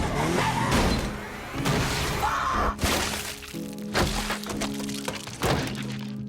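A film crash effect of a car slamming into a person, with a heavy impact thunk, skidding and breaking or shattering debris, several loud hits spread across a few seconds over a dense mix.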